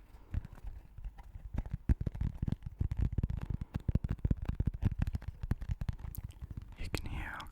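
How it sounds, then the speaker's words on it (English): Close fingertip tapping on a plastic DVD/Blu-ray case from an op shop, a fast, uneven run of soft, dry taps heard up close, with a brief rustle near the end. "Let's get rid of that so I can tap on this fucking disc."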